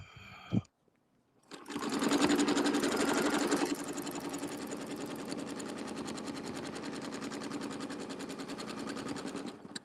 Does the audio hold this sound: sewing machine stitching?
yes